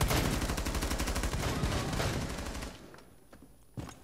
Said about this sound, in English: lads are shooting the hell out of that wall